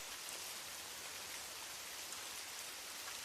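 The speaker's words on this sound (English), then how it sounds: "The rain is still whispering outside" Steady rain falls outside, a soft, even hiss that continues without a break and stays fairly faint and distant, with no voices.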